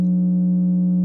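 A pure sine wave tone generated in PdL2Ork, a steady, loud, unwavering single pitch held alone for about a second with no voices.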